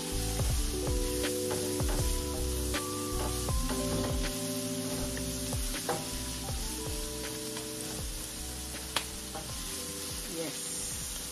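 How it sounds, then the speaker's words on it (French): Onions fry in a pan with fat left from smoked sausages, giving a steady, close sizzle with occasional stirring scrapes throughout. "Nous, on va faire revenir nos oignons."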